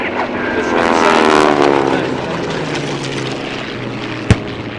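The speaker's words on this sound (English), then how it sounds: "You see the Curtis B-40 Warhawk flying behind the Japanese Zero" A Curtiss P-40 Warhawk and a Japanese Zero fly past at an airshow with loud droning propeller engines. The pitch sweeps as they pass overhead, and a sharp bang sounds near the end.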